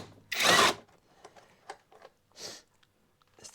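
A hand tool works on the airbox lid bolts of an Audi TT MK1 1.8T, a short burst of whirring followed by a few faint clicks and scrapes, close and isolated.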